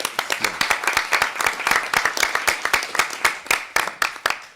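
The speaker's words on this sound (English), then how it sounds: "So maybe we can give them a round of applause" A small audience at a refugee connectivity panel event gives a round of applause, a run of distinct sharp claps from relatively few people, close and fairly loud, tapering off.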